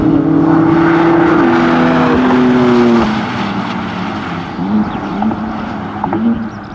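A BMW M3 CS runs on a race track, its engine holding a loud, steady tone before easing off, then revving in short, rising bursts, heard up close with no talking.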